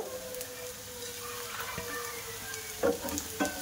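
Onion fries with chopped garlic and green chili in a pan, a quiet steady sizzle with a few light clinks from stirring near the end.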